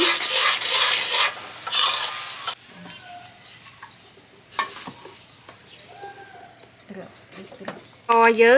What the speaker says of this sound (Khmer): យើងកូរវាឲ្យរលាយសព្វចូលគ្នា